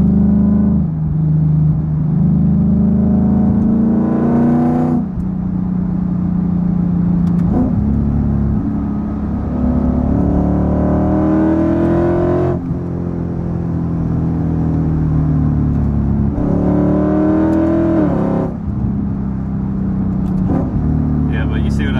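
Modified Lexus IS F V8 engine accelerating through gear shifts, loud and close from inside the car, with revs climbing and dropping at each shift every few seconds, under steady conversation.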